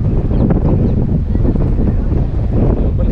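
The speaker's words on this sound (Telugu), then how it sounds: "గాలి మాత్రం ఒక రేంజ్లో వస్తుంది." Strong wind gusting straight into the microphone at the Taj Mahal grounds, a loud, constant low roar and rumble filling the clip without pause.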